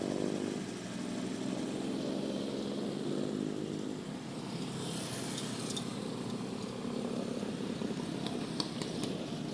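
A motorcycle carrying two riders is ridden along, its engine a steady, droning hum that continues throughout, loud and close, with some higher-pitched whine and faint clicks toward the end.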